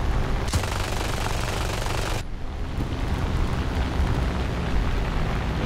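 Aircraft machine gun fire in War Thunder during an air battle, a loud continuous roar of rapid fire blended with engine and wind noise, one sharp burst change around two seconds in, no talk.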